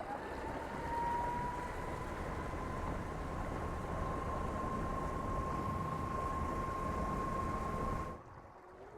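A Mercury Avator 35e electric outboard motor drives a 4.5 m boat, a steady rising whine over rushing water and hull noise that holds for about eight seconds before cutting off abruptly.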